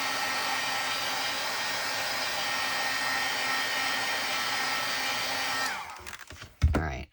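A handheld heat tool blows air steadily and loudly to dry a junk journal page, a constant whirring roar that runs for nearly six seconds before cutting off, followed by a few brief handling knocks.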